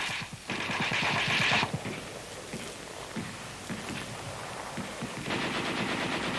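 Heavy machine gun firing in a World War II army training exercise, rapid bursts of shots in short runs separated by pauses, with a sharper burst near the start and another at the end.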